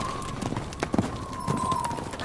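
Donkeys being led to a well in La Guajira, Colombia, clip-clop along at a walking pace, their hooves giving close, irregular knocks over a rough background.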